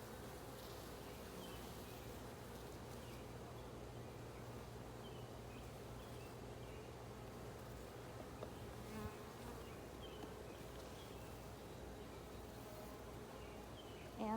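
Honeybees buzz continuously during a hive inspection and honey harvest, a steady, faint, dense hum of many insects close by with no talk.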